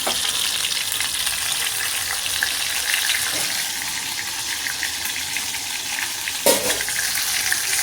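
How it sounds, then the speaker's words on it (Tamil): Meal maker soy chunks fry in hot oil with a continuous loud sizzle and bubbling crackle, steady throughout with a brief stir or clatter near the end; no talking. "பாருங்கள், பொரிக்க ஆரம்பிச்சிச்சு, எண்ணெய் நல்லா கொச்சிச்சு."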